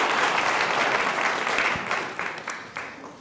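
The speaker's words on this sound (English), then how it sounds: "Give everyone a round of applause for coming out" An audience at the Happiness Hall of Fame evening claps together, dense and loud at first, then thins into scattered claps that fade toward the end.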